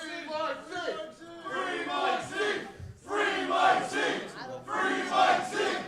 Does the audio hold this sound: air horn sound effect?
no